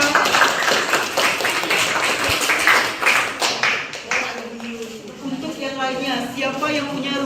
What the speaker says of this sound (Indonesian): Tepuk tangan untuk kelompok Najwa